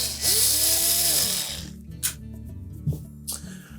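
A power driver whirs loudly as it backs screws out of a GE range control panel, the motor whine rising and falling for about a second and a half before a few soft clicks and taps.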